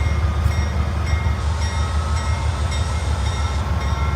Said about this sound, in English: You can hear that air compressor kick in there.